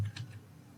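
Several rapid keystrokes land on a computer keyboard while TypeScript code is typed, a short, soft burst of close clicks that fades out quickly.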